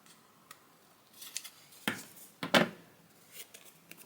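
Scissors snipping through fabric to cut out an egg-shaped template, a few close, crisp cuts in irregular bursts with quiet pauses between, no talking.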